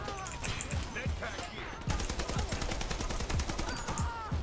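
Rapid bursts of shotgun fire in the online shooter Dirty Bomb crack repeatedly in close succession, loud and sharp, with a brief lull before the volley resumes.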